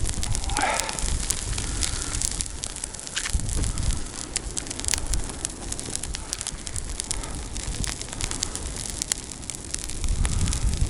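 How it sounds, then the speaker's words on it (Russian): An old haystack burns outdoors, sending out a steady loud roar of rushing flame with scattered crackles and pops throughout, close by and continuous. "Решил, ребят, сжечь этот стог."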